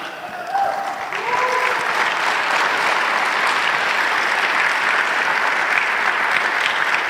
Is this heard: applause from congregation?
yes